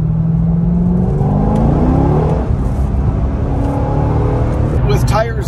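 A Chevrolet C6 Corvette on worn rear tires accelerates hard in second gear, its engine note sweeping upward loud and close, then easing off near the end amid wind and road noise.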